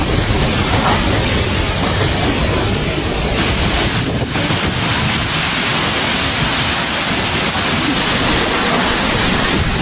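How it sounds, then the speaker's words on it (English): Over-three-metre sea waves from Super Typhoon Uwan batter the eastern coast of Luzon, a continuous loud roar of surf churned with heavy wind buffeting the microphone, steady for the whole stretch with no speech. "Sea waves over 3 meters high battered the eastern coast of Luzon"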